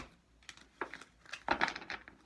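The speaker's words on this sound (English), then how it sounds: "I'm not taking cards right now, so I'm just shuffling" Tarot cards being shuffled by hand, a few soft papery riffles and crinkly slides in short bursts, close and quiet, with no talking.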